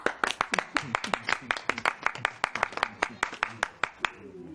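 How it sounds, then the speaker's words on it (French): A small audience claps in distinct, sharp, fairly close hand claps at an uneven quick rhythm, a few people rather than a crowd, with faint voices in the background, fading out after about four seconds. "Est-ce qu'on peut applaudir? On peut applaudir."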